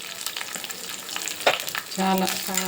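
Freshly picked curry leaves dropped into hot oil for a peanut chutney tempering, giving a loud, close, crackling sizzle that swells sharply partway through, with light stirring underneath.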